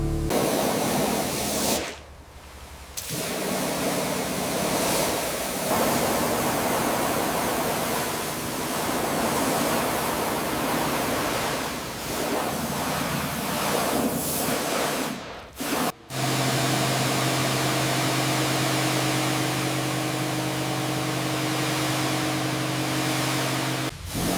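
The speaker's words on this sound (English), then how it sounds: "The pressure washer is blasting mud off the engine cover inside the engine bay." Pressure washer spraying thick caked mud off the engine cover inside the engine bay of an abandoned white Mustang GT: a loud, continuous hissing jet with brief cutoffs and shifts in tone as the spray moves.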